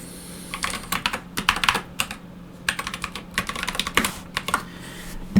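Typing on a Commodore 64 keyboard, rapid irregular bursts of clacking keystrokes with short pauses between runs, close and clear with no voices.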